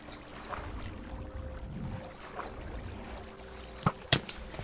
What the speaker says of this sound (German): Das Rauschen des Wassers?